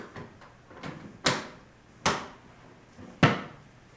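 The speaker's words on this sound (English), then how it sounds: "Then mount the door." Wooden knocks and clacks from a cabinet door being handled and mounted on European concealed hinges, three sharper taps standing out from softer bumps.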